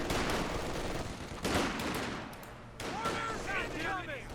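An MG42 machine gun fires in bursts during a competitive strategy video game match, mixed with other battle gunfire and effects under steady commentary from a caster.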